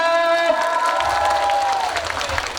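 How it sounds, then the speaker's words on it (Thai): A crowd at a Thai folk festival's self-defence demonstration claps steadily at moderate loudness, with a sustained electronic tone sounding over the applause. "ขอเสียงปรบมือดังๆด้วยครับ"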